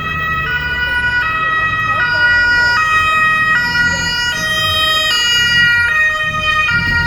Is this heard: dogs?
no